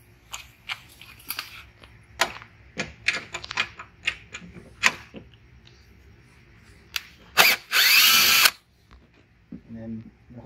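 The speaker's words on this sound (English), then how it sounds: "So I'll swap this out on my drill here." A power drill whirs loudly in one sustained burst of about a second, removing a 3/8-inch bolt from a Toro Recycler 22-inch lawn mower, preceded by scattered clicks and taps of tool handling.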